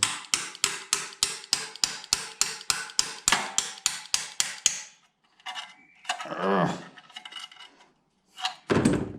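A steady run of about sixteen sharp hammer blows pounding an engine part loose, close and loud, followed by scraping, clanking and a couple of knocks.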